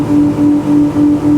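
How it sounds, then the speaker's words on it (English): Jeanneau 10.5WA S2 motorboat engine running at wide open throttle at about 37 knots in open water, a loud steady droning hum that pulses slightly in rhythm, with no talk. "That sounds like the engine's at wide open throttle there."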